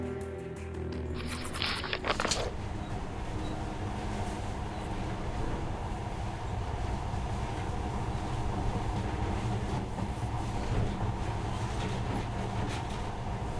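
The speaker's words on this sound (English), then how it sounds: "In the past, trains were ordinary things. But now, this monorail seems magic, doesn't it?" A monorail train in the game Metro: Last Light rolls along with a steady, heavy rumble and mechanical clatter, opening with a brief burst of higher rattling before settling into continuous running noise.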